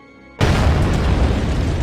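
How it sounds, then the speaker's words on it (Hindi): A sudden loud boom erupts after near silence, then a sustained rumbling roar, like something heavy crashing to the ground. "तभी अचानक एक जोरदार आवाज आई, जैसे कोई भारी चीज जमीन पर गिरी हो।"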